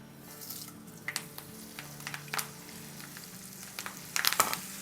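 Dried red chillies, curry leaves and crushed garlic frying in hot oil for Hyderabadi dal, a steady close sizzle with crackling pops that grow busier toward the end, no voices.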